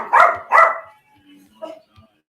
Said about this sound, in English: The dog just barked in my ear loud.